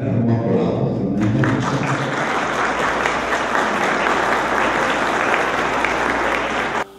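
Applause for a couple celebrating their golden wedding anniversary, a loud, dense burst of clapping from a gathered crowd that starts over speech and stays strong until it cuts off abruptly.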